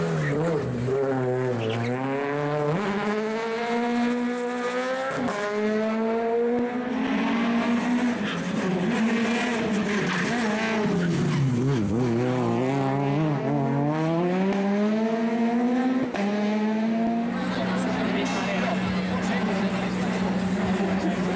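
A rally car racing at Nyíregyháza Rally 2018, an M2-class car, its engine revving up and down in repeated gear-change sweeps. Loud and close throughout, with a commentator talking over it.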